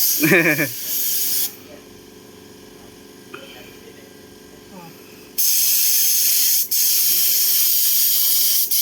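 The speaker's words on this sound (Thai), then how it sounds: "มาดูพ่นสีดีกว่า" A spray gun hisses loudly in long steady blasts while paint goes onto the underside of a car, with a quiet gap between bursts and a brief voice at the start.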